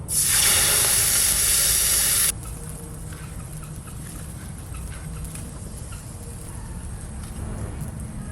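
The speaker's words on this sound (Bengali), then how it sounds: "এবার ঝোল রান্না করব কড়াইতে জল দিচ্ছি" Water is poured into a hot kadai while cooking hilsa fish curry with fresh garden vegetables. A loud, sharp hiss of steam bursts for about two seconds, then settles into a quieter steady simmer.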